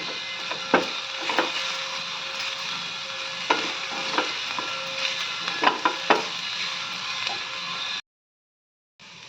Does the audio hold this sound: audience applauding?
no